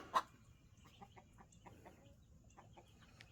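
Hens on a homestead clucking softly and intermittently at a distance, with one sharper squawk at the start and quiet scattered calls after.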